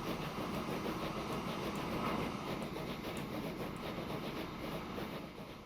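A train rolls steadily along the track in the Transport Fever 2 video game, set on a Wild West map in 1890. The rumble and clatter are continuous and mid-level, with no talking.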